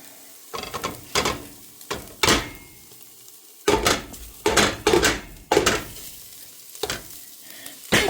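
Raw sausage dropped in clumps into onions cooking in bacon fat, giving a run of loud, close sizzles and stirring scrapes that burst up and fade in irregular spurts, with no talking.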